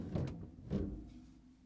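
A replacement handle on a GE refrigerator's freezer drawer slides into place, giving two soft, dull knocks of plastic against the drawer followed by a fading rumble, close and alone.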